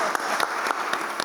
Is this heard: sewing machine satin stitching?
no